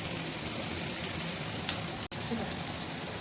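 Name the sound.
sautéing capsicum in a pan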